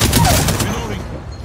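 Rapid gunfire bursts in a shooter video game crack loudly at the start, then fade into a decaying echo over the remaining second.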